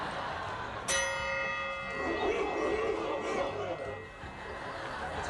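A single bright bell strike rings out and decays over about a second within a played comedy sketch about a tequila night at a bar, with chatter and chuckling continuing underneath.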